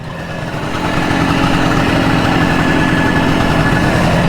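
A 1977 Suzuki GT250 two-stroke motorcycle idles on choke, a close, loud and steady burbling engine drone that rises slightly at first and then holds even, with no talking.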